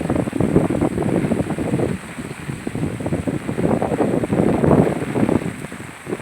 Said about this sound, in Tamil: இப்பயும் மழை பெஞ்சுன்னு தான் இருக்குது